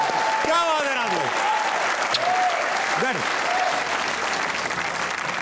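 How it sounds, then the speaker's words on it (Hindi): A studio audience at a comedy talk show claps loudly and continuously, a dense steady wash of applause filling the room while voices call out over it. "भाई खड़े होके तालियां हो जाएंगे यार, खड़े होके।"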